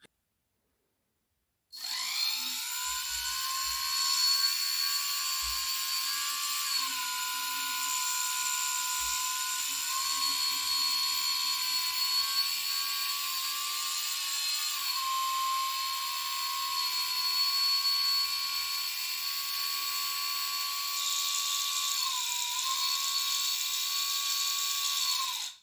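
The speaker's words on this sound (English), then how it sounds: "Now let's test the pump with fuel." A small electric fuel pump for a model engine runs with fuel, giving a continuous high-pitched whine that starts abruptly after a brief silence and holds steady with slight pitch wobbles, close and alone without talk.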